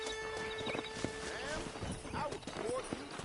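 Horse hooves clip-clop steadily at a walking pace in Red Dead Redemption, mixed with background music and game ambience, with a few brief calls over the top.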